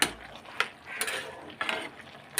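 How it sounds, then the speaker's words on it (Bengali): A spoon scrapes and clinks around a pan as vegetable curry with added sugar and mustard powder is stirred, giving a few quiet, irregular scraping strokes close by. "এইবার এটাকে নাড়াচাড়া দিয়ে দিলাম"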